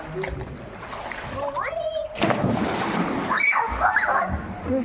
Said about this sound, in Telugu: నీళ్ళు ఎగుతాయి నీళ్ళు.